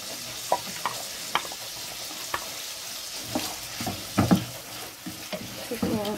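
Onions fry in a pan under a steady sizzle, with intermittent spatula scrapes and knocks against the pan close by.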